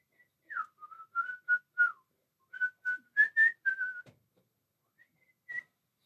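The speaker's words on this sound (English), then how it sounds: "I've been whistling a lot lately." A person whistles a short, wandering tune of about a dozen clear, close notes, some sliding, with brief pauses between phrases in an otherwise quiet room.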